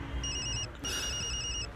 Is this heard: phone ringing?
yes